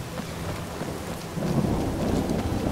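Steady rain and rolling thunder in the Skyrim video game, a constant hiss of rainfall with a deeper rumble swelling partway through and no talk over it.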